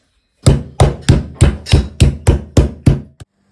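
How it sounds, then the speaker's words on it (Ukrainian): A meat mallet pounds a meat roll on a board, nine sharp, evenly spaced thuds in a steady rhythm, close and loud, with no talking. "треба буде молоточком відбити"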